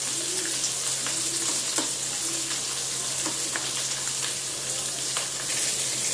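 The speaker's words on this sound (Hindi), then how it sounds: "प्याज फ्राई हो रहा है" Chopped onion sizzling steadily in oil in a pan, cooking for a masala rava dosa potato filling; a continuous close frying hiss with faint crackles and pops throughout, no voices.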